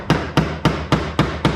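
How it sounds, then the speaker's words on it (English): A hammer strikes a cotter pin on a KREX 1000 tow hitch, six sharp, evenly spaced metallic blows close up, each with a short ringing decay. "I've sat here with a hammer."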